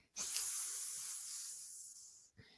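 A single sustained hiss made by a person imitating an angry cat, sharp and breathy, lasting about two seconds before cutting off.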